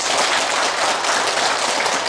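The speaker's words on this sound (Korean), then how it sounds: "박수 한번 쳐주시겠습니다" An audience at a Buddhist healing service applauds, a short, even burst of dense clapping from many hands in a room.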